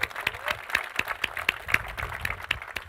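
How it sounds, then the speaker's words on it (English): An audience gives a faint, steady round of applause, with the claps falling in a fairly regular patter at a distance. "we can give Fred a round of applause on that"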